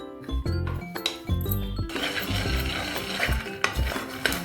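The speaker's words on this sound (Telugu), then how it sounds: "సో ఇలాగా దోరగా వేయించుకోవాలి వేరుశెనగ గుళ్ళని." Dry roasting peanuts in a pan: a spatula scrapes and stirs while the peanuts rattle and clink against the metal, with a soft sizzle beneath.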